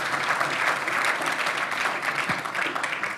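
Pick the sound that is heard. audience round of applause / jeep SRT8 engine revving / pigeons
audience round of applause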